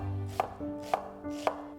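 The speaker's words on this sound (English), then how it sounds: "One red onion, diced." A knife chops through a red onion on a cutting board, three crisp evenly spaced cuts close to the mic with no talking.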